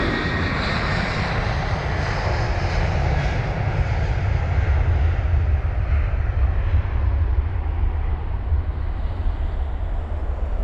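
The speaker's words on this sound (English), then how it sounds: "We've also got the Delta 330 on the move." A Delta A330 airliner taxis past at Heathrow, its engines making a loud, steady roar and rumble that fills the whole stretch without a break and fades slightly toward the end.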